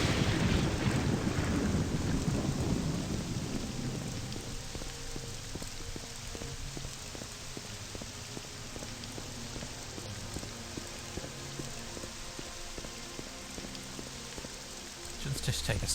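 A thunderstorm in the video game Morrowind, with a heavy rumbling roll of thunder over the first few seconds, then steady rain patter carrying on at a moderate level.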